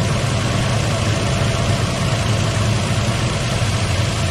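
A car engine idles steadily during a battery tester check, producing a continuous low rumble with a constant mid-range hum, close and loud throughout with no revving.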